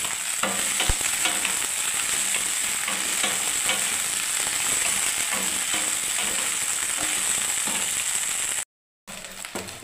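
Okra frying in hot oil in a wok over a raised gas flame, a loud steady sizzle with scraping stirs throughout, cutting out briefly near the end.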